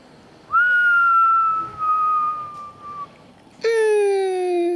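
Two long sustained whistled notes, each slowly gliding downward in pitch, separated by a brief pause; clear and close with faint background noise.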